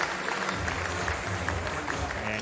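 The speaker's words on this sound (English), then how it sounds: "listen to the warm round of applause for this legend of the sport" Warm, steady applause from spectators at a canoe-kayak sprint world championship finals, a distant, continuous patter of many hands heard alone.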